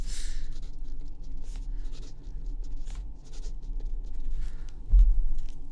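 Chalk or a marker scratches out a short chord symbol on a board during a music theory lesson, a faint, intermittent scratching over a steady low background hum.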